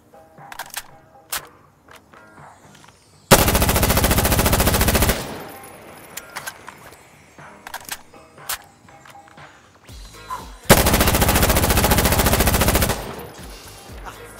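Two long bursts of rapid automatic gunfire from the shooter game Insurgency Sandstorm, each lasting about two seconds, loud and close, separated by quieter clatter and handling noises.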